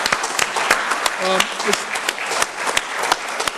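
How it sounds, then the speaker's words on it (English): Applause from the audience at a township trustees meeting, a steady wash of many hands clapping for a few seconds at moderate loudness, with brief speech-like tones over it. "can we give those folks a round of applause"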